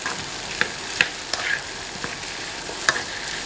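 Food stir-fried in a pan for a home-cooked family meal before Tet, a steady close sizzle with occasional sharp clicks of a utensil against the pan and no voices.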